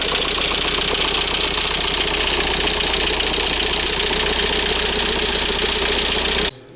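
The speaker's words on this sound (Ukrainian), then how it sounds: "З'явився ось такий стучок гольфа. Нехороший сучок." A Volkswagen Golf engine runs at idle with a rapid, steady mechanical knocking throughout, close and loud, then cuts off abruptly at the end.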